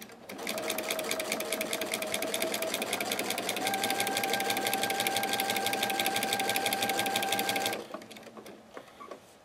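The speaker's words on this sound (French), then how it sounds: "j'ai installé sur ma machine un pied à double entraînement" A sewing machine fitted with a walking foot stitches bias binding, a fast, steady mechanical whir running for about eight seconds before stopping, followed by a few faint clicks.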